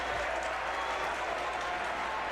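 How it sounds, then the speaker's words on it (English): Crowd at Friedrich Arena during the 2022 GPAC men's basketball championship game roars with continuous cheering and applause, a dense, loud, unbroken wash of noise that fills the whole moment. "The crowd is absolutely electric here inside Friedrich Arena."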